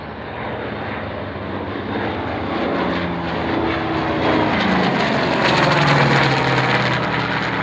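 Propeller warbirds brake and run in for landing at the Duxford air show, a loud continuous engine roar that builds steadily and holds near, with shifting propeller drone throughout and no talk.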